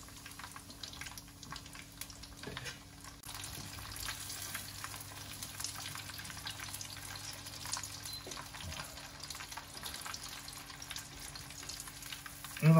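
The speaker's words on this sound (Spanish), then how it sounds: "Y vamos a freír el último trozo que nos queda." Chicken pieces for croutons fry steadily in hot oil, giving a continuous bubbling sizzle at close range that holds a fairly even level throughout, with no one talking.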